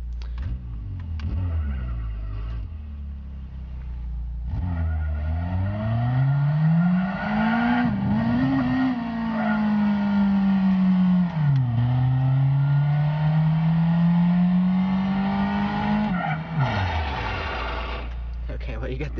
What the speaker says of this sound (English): there's me driving a Focus in a Focus